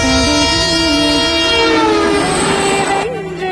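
A train on a new broad-gauge railway line roars loudly nearby with a sustained, wavering horn blast that fades at the end, with no one speaking.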